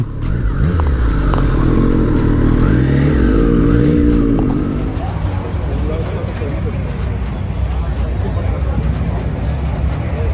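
Superbike engines rev and rumble loudly at a Triumph motorcycle meet-up outdoors, a strong revving swell easing into a steady idle drone with crowd noise behind.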